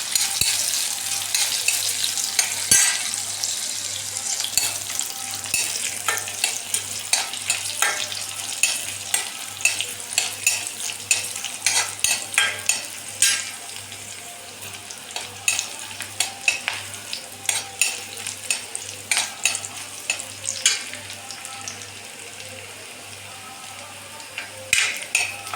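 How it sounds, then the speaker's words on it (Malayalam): Hot oil with popped mustard seeds sizzles steadily as a spice-batter mixture is poured in and stirred, a continuous close frying hiss with scattered crackles and spoon scrapes, no talk. "കടുക് നന്നായിട്ട് പൊട്ടിയിട്ടുണ്ട്. നമുക്ക് ഈ കൂട്ട് ഇതിനകത്തോട്ട് ഒഴിക്കാം."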